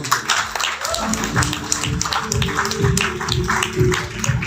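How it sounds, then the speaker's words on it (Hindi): Audience applause at a business milestone event, a steady mass of clapping with talk and voices running beneath it throughout. "जोरदार तालियां"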